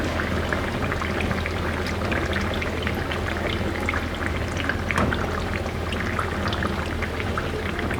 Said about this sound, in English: you keep going on till you finish frying all your mahamris